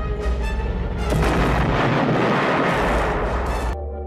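A corridor blows apart in a film explosion as a man in an astronaut suit detonates it from outside, a loud, sustained roaring blast that swells after the first second and rumbles for nearly three seconds before cutting off.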